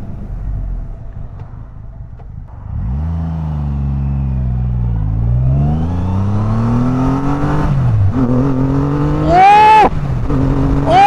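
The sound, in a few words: Triumph Rocket 3 motorcycle accelerating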